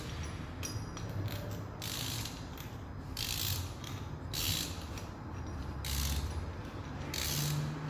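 Ratchet wrench tightening a mechanical anchor into hard rock such as granite or basalt, a steady run of rapid clicking pawl strokes in repeated bursts, close and fairly loud, no voices.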